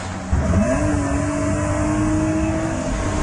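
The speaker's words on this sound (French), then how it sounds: "tout à coup, une voiture noire dépasse Dylan sur la gauche." A black car overtakes on the left, its engine droning loudly and close, pitch climbing briefly before holding steady, with no voices.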